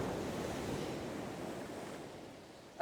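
Waves washing in on a shore, a soft continuous surf hiss close by with some wind, no voices.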